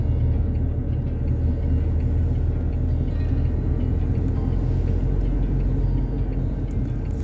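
A car drives a winding mountain route toward Narkanda in Himachal, its engine rumble and road noise steady and close throughout, with no talking.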